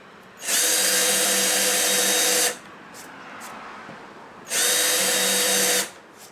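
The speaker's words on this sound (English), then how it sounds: "So I'm going to take my drill bit," A power drill bores a hole for a DIY single-cup tumbler turner, running in two loud, steady bursts of about two seconds and just over one second, with a quiet pause between them.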